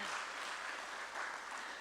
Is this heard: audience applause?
yes